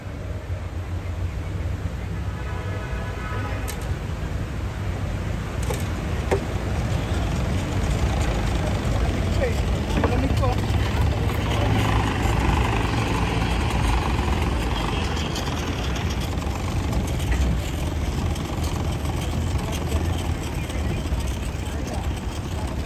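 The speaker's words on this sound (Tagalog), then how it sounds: "Umikot pa yung nauna na speedboat mga kababayan" A speedboat engine drones low and steady on the Marikina River during a search and rescue for a drowning victim, with faint voices over the continuous rumble.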